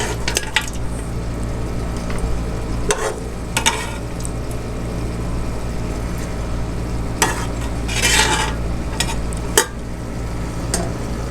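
Goat mutton for korma frying in an Instant Pot, a continuous sizzle under repeated scraping stirs and occasional clinks of a utensil against the pot.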